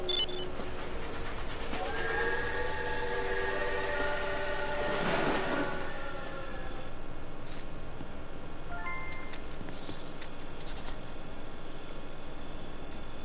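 A train rumbles past steadily in the Death Park video game, with a long horn-like tone near the middle and a constant cricket-like hiss of insects over the whole scene.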